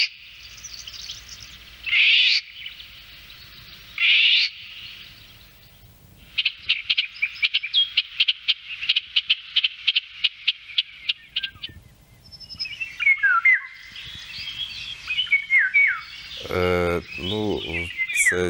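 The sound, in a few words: golden oriole song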